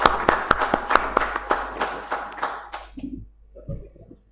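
A conference audience at a tech summit claps for a few seconds, with sharp separate hand claps building into light applause that fades out. A few quiet sounds follow at the end.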